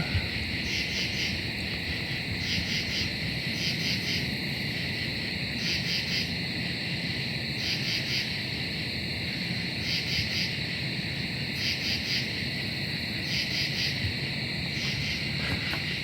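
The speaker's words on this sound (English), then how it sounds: "the eastern screech owl" Eastern screech owl trills repeat at regular intervals, moderately close, over a continuous nighttime drone of crickets and other insects.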